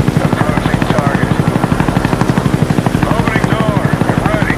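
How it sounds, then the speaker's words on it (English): A Huey helicopter in the video game Call of Duty Black Ops closes in with loud, rapid rotor thumping at a steady rhythm, while radio-style voices talk over it. "Friendly Huey inbound."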